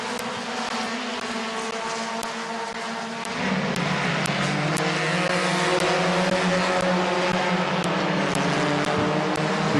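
Race cars on a dirt speedway track during a race at Midvale Speedway, engines roaring loudly and continuously, the pitch and intensity rising partway through as cars pass close.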